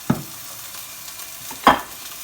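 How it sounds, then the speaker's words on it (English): A small slug of olive oil frying in a pan on the hob, with two brief sizzling bursts as food or utensils stir through it, close and otherwise quiet. "So turn on the heat and we're going to fry that off."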